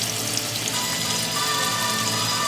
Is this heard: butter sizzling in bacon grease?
yes